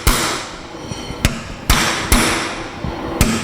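Hammer striking a knock-off spanner on the wheel of a 1981 MGB GT, five sharp metallic blows spaced irregularly with brief ringing after each, loud and close.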